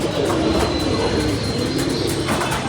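Pigeons coo close by where rice paddy is laid out to dry, soft repeated throaty calls over a steady broadband rumble of background noise, with no voices.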